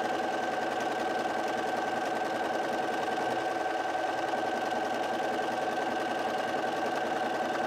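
A Bernina 350 sewing machine runs steadily, stitching a keyhole buttonhole with a continuous, even mechanical whir and fast needle rhythm, close and alone without any talk.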